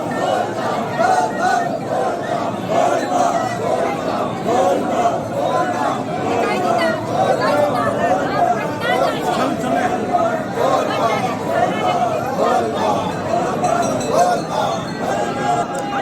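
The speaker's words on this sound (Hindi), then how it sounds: "देख रहा छी दर्शक बंधु कते भीड़ छै, से बहुत भीड़ छै" A dense crowd of pilgrims at the Deoghar temple makes a loud, continuous roar of overlapping voices, shouts and clinking, close and unbroken throughout.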